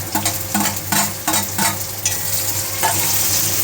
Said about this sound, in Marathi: टोमॅटो पण बारीक छान असं भाजून घेणार आहे